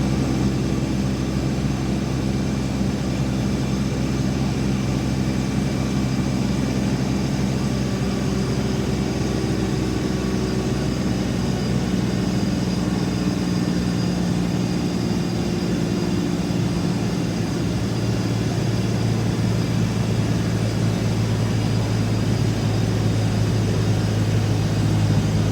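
A Kubota tractor engine runs steadily under load on a PTO dynamometer during a power test, producing a constant loud drone that holds throughout without speech.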